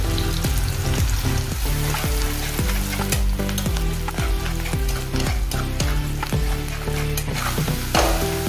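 Steady, loud sizzling of asafoetida frying in hot oil with finely chopped onion, with constant crackle and occasional stirring scrapes throughout.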